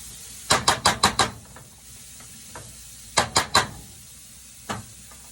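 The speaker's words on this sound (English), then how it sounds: "Sweat those onions down" Onions sweating in a pot for creamy chicken soup, stirred with a spoon: two quick runs of sharp scraping knocks against the pot, then a single later tap, over a faint steady sizzle with no talking.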